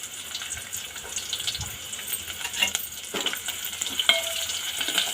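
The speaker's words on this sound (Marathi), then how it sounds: "आता आपण ह्यामध्ये बारीक चिरलेला कांदा टाकून घेऊ" Finely chopped onion frying in hot oil for a coriander-fritter curry, giving a steady close sizzle and hiss with a few light clinks of a utensil against the pan.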